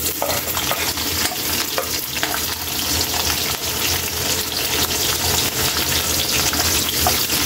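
Onion and garlic frying in oil for pork menudo, a loud continuous hiss and sizzle with stirring scrapes and watery splatter running the whole time, close up, without speech.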